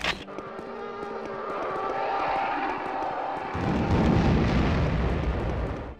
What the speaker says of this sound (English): we're gonna actually head up over to the roof, which is being bombed by TIEs for some reason